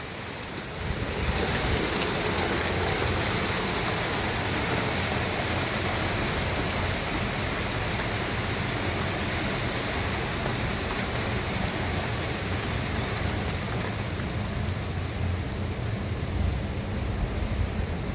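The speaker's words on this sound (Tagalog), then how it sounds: "Ayan, lumakas na yung ulan." Heavy rain from a passing storm pours steadily onto surfaces in a garden, a dense, constant wash of drops heard up close for the whole stretch with no talking.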